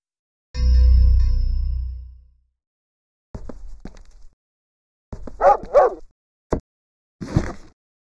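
A dog in the video game Where Angels Cry gives a few short, sharp barks and yips spaced over several seconds, after a loud low rumbling tone fades out.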